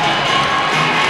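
Hockey arena crowd at an Arkansas game cheering and roaring steadily, a dense sustained wall of many voices close and loud throughout, with no distinct talk standing out.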